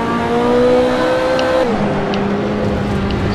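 A Ferrari 288 GTO engine holds a steady high rev, then the pitch drops sharply as the throttle eases, loud and close with a constant droning tone and no talking.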